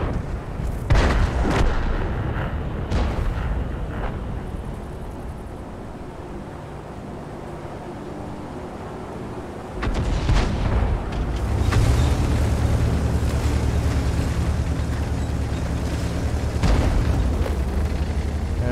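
Artillery shells and explosions from World of Tanks gameplay, a series of heavy booming blasts early on, then a loud sustained rumble of tank engine and gunfire from the midpoint onward, with no talking.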